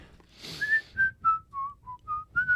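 A person whistles a short tune of several clear, separate notes that step downward and then rise again, close and fairly quiet, with faint background noise and no talking.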